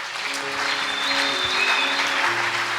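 An audience at a church Sunday school event claps and cheers together, sustained applause with some voices rising over it, filling the short moment.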